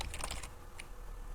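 A quick burst of keystrokes on a computer keyboard, a short cluster of soft close clicks followed by one more tap after a pause, in a quiet room.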